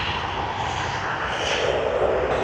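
An airliner takes off at Sydney Airport, its engines giving a steady, loud broadband roar throughout that swells slightly toward the end, with no talk over it.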